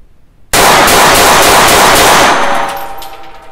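Rapid fire from a Dreyse Mle 1907 pistol, heard as a sudden, very loud, dense burst of shots lasting about two seconds and then fading away.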